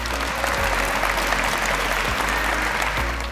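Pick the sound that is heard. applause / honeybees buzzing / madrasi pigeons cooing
applause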